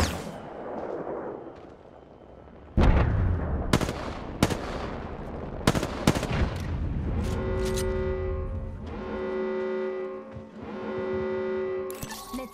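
Charge rifle and other weapons fire in an arena shooter game: a quiet stretch, then loud sharp repeated shots and bursts, followed by a sustained humming, buzzing charge tone with more blasts.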